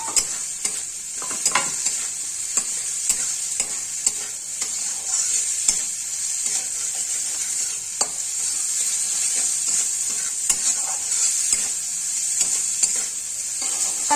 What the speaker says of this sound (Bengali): ভাজা হয়ে গেছে, এবার আমি সোয়াবিনগুলো দিয়ে দিচ্ছি এর মধ্যে।